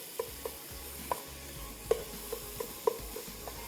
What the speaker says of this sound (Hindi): अभी हलवा ये अच्छे तरीके से हमारा भुन गया है